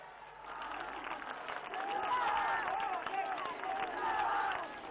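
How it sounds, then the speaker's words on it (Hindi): A large ceremony crowd applauds during a welcome for India's Prime Minister, sustained clapping that swells and holds steady with faint crowd murmur underneath. "आप सब तालियों के माध्यम से जुड़ें"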